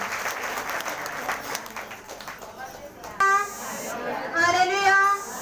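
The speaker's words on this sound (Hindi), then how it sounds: "इसलिए बहन परमेश्वर को जोरदार तालियों से धन्यवाद देती है।" Congregation clapping during a church thanksgiving service, a dense wash of applause that thins as a person begins talking and a second voice joins over it.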